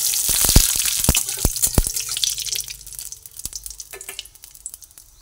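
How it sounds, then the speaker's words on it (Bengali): Panch phoron five-spice seeds frying in hot oil with a bay leaf, giving a steady high crackling sizzle broken by several sharp pops and clinks early on, close and fairly loud, easing off toward the end. "পাঁচফোড়নটা ভাজা হচ্ছে"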